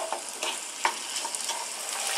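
Lamb samosa filling frying gently in a pan over medium heat, a soft continuous sizzle with occasional light stirring scrapes, close and steady.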